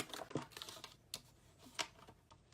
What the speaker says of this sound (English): let me go ahead and trim these off